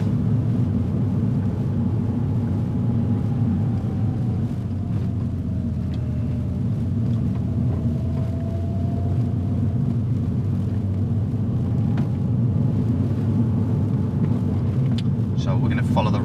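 Car driving along a road through a roundabout and bends, heard from inside as a steady low engine and tyre rumble throughout, with people talking over it.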